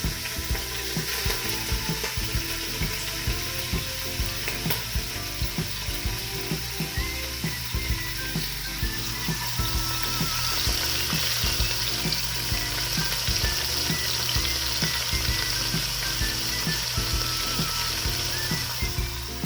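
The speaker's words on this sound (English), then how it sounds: "now I'm going to add the meat on the saute mode to get it browned" Meat browns in olive oil in an Instant Pot on sauté mode, giving a steady, close sizzle with a regular ticking pulse underneath and no talking.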